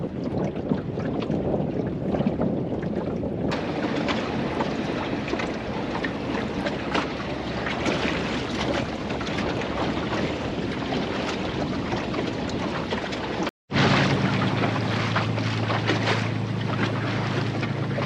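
A John Welsford Navigator dinghy sails on Plymouth Sound: steady rushing water and wind noise run continuously and close by, with a brief cut near the end. Nobody speaks.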